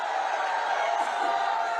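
Large political rally crowd in Arwal cheering and clapping for a JDU candidate, a loud, unbroken roar of many voices and hands filling the whole moment.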